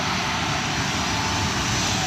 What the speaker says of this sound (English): this plane back here is taking off